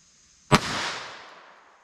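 A single sharp gunshot from a .22 LR pocket gun loaded with CCI Stinger ammunition, fired into a watermelon outdoors; one loud crack followed by a long fading echo, with no talking.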